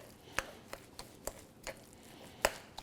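Salmon popper filling with coarse pepper being mixed in a bowl, making a series of sharp, irregular utensil taps and knocks close by, with no talking.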